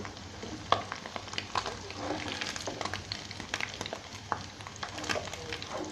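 Fish 65 pieces frying in hot oil, with a dense continuous sizzle and crackle and scattered sharp pops, moderately quiet throughout.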